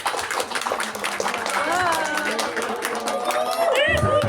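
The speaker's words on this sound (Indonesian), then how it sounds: "diharap kepada seluruh tamu undangan untuk beri tepuk tangan yang paling meriah" Wedding guests clapping and cheering as the couple meet, a lively crowd burst with chatter and a voice over a loudspeaker mixed in, growing fuller toward the end.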